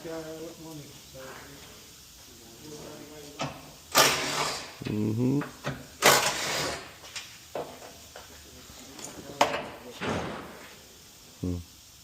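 Old damaged doors from a 2016 Toyota RAV4 are handled in a repair shop, with several loud metallic knocks, thuds and clunks spaced irregularly, mixed with people talking.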